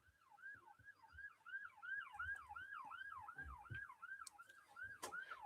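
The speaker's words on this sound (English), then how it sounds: "I can hear police sirens and everything." Police sirens wail outside a house, a cycling up-and-down siren tone heard faintly at a distance, steady throughout with a few small knocks and clicks nearby.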